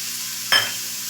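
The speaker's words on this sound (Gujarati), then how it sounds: "કિનારે ઉખાડીને તેને પલટાવી લેશું. અને સાઈડમાં છે તે તેલ લગાવી લઈશું." A single short burst of sizzling as rava uttapam is turned in hot oil on a pan, a quick loud hiss that fades back to a low steady crackle.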